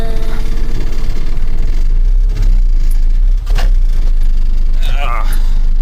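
The engine of a 1985 Mazda B2000 ute runs with a low, steady, rattly idle close by, while someone talks over it.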